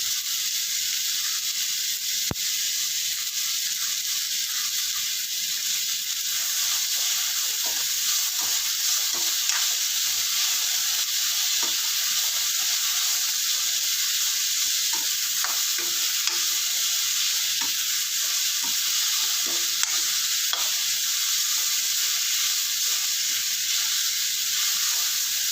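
Ginger garlic paste fries in a pan for a South Indian Kumbakonam kadappa, a steady, dense sizzle that runs unbroken throughout, with faint stirring scrapes now and then.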